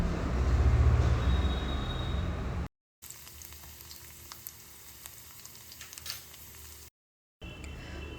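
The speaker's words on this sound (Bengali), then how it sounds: "রসুন কুচিগুলি আমি হালকা করে এখানে গোল্ডেন ব্রাউন করে ফ্রাই করে নেব।" Chopped garlic fries in a hot pan with black cumin and chilli, a steady close sizzle that holds for several seconds, broken by two short gaps of silence.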